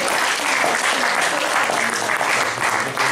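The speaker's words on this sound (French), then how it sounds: "je crois que nous pouvons applaudir les deux conférenciers" Sustained audience applause after two speakers at a philosophy and painting talk, a dense steady wash of clapping filling the room without pause.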